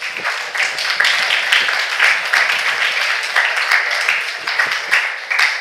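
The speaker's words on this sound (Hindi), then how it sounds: "जोरदार तालियां हो जाओ खुशी के लिए सारे।" A crowd claps loudly and steadily for several seconds, a dense, continuous round of applause.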